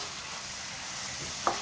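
Ground beef seasoned with black pepper frying in a pan, a steady soft sizzle running throughout with one brief clink of a utensil near the end.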